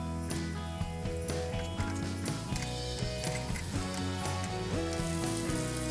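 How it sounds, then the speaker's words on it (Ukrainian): Constant crackling sizzle of meatballs frying in an oiled pan, with scattered taps and scrapes over a steady low hum. "На змащеній олією пательні смажимо фрикадельки."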